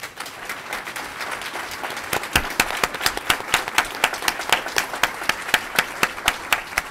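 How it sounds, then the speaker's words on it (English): Applause rises at a school board special meeting, starting as scattered clapping and building into steady, fairly close rhythmic hand claps from a modest group that continue to the end. "We applaud this exemplary student achievement in the visual arts."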